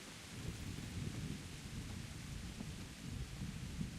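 Steady rain falling in the medieval role-playing video game Kingdom Come: Deliverance, a continuous faint wash of patter with low rumbling underneath, no voices.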